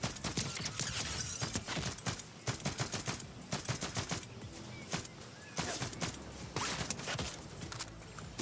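Rapid automatic gunfire from a video game weapon with brutal recoil, dense loud bursts crackling almost continuously for several seconds with brief gaps, close and harsh.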